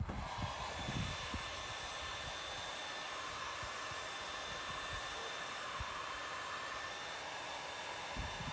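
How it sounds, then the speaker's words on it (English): A heat gun blows steadily, a continuous close airy roar with a constant hiss throughout, working near an 8.1 big block engine. "Okay, we're grabbing the heat gun. We're back with the heat gun."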